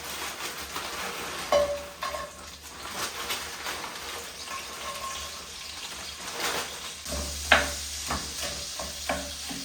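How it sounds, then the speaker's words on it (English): Onion, carrot and celery cooking in melted grease in a hot cast iron skillet give a steady, moderate sizzle with occasional stirring scrapes and a few sharper clinks, no voices. "Our cast iron skillet has warmed up. The grease has melted. I'm just gonna add in some onion."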